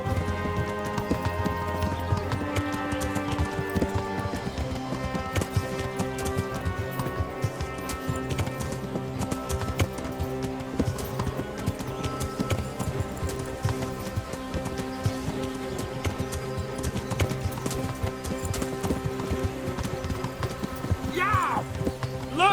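Horse hooves clop steadily as a rider travels in the medieval video game Kingdom Come: Deliverance, a continuous rhythmic beat under sustained orchestral music.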